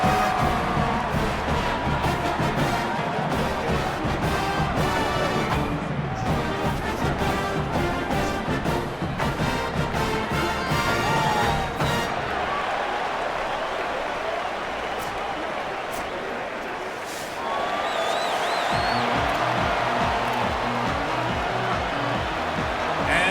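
Stadium crowd in an NCAA football video game, a North Dakota State home opener against the FCS NW Kodiaks, roars steadily as a dense, sustained wash under game music and broadcast commentary, easing briefly before swelling again.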